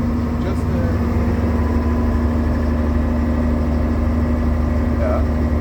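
The engine of a Terrängbil 30/40 military off-road vehicle runs steadily while climbing uphill at about 1500 RPM, a constant close drone with a speaking voice over it.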